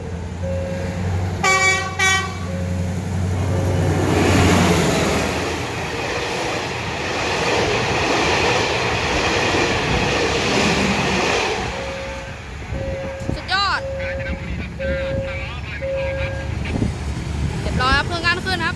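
A heavy MTU diesel locomotive engine roars steadily up close while accelerating at full throttle, with short horn toots at the start and a string of repeated beeps near the end.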